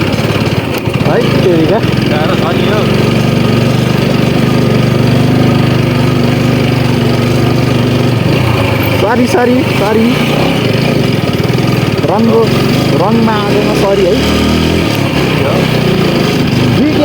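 A powerful motorbike engine droning steadily during a ride near Sarangkot in Pokhara, loud and constant, with people talking and shouting over it.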